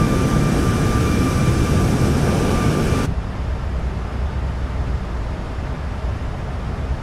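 Engine roar of an iFly 737 MAX8 airliner in a flight simulator, a loud, steady broadband drone with a faint whine that drops abruptly to a duller, quieter rumble partway through, no voices.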